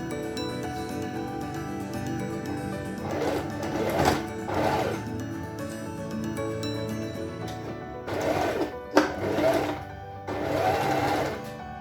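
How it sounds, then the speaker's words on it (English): Sewing machine stitching the side seams of a cushion cover, running in several short bursts with pauses between, close and steady under a faint background hum. "I'm going to use the sewing machine"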